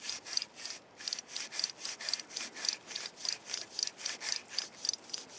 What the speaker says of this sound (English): here's what the faulty wheel bearings does sound like once it's removed